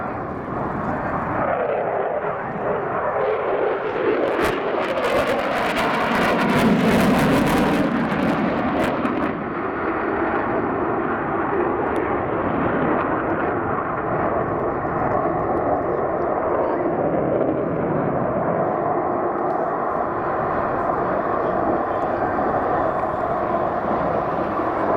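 Fighter jet with twin Eurojet EJ200 engines makes a fast pass with afterburner engaged, a loud sustained roar that swells to a crackling peak as it passes close, then trails off into a long rumbling fade.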